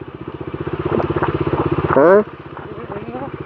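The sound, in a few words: motorcycle riding uphill on a rough road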